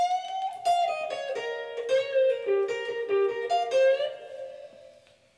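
A clean electric guitar plays a short blues phrase, with bent and sliding single notes, moderately loud, ending with a fading final note.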